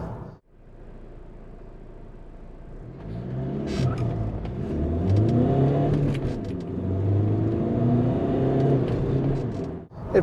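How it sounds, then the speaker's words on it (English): A Ford Transit van fitted with a V8 engine accelerating, heard from inside as a deep engine note climbing through the gears, rising, dipping at shifts, then building again before cutting off. "So as you can see, it's a decent accelerating van."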